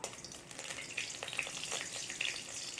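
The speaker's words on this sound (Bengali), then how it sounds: "এবার আমি এখানে পাঁচ ফোড়ন নিয়েছি আর দুটো শুকনো লঙ্কা নিয়েছি এই দুটোকে আমি একটু হালকা করে ভেজে নেবো" Panch phoron and two dried red chillies frying in hot oil give a steady, fairly quiet sizzle with small crackles and pops scattered throughout, no voices over it.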